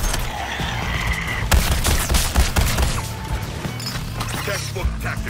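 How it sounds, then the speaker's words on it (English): Big gun blasting in a video game, a burst of heavy shots and crashing impacts over continuous game noise and voices. "Brainy just turned the big gun on us!"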